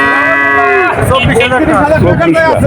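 At a cattle market, a calf gives a loud, close, drawn-out moo that wavers in pitch and then breaks into rough grunting lows, with no talk over it.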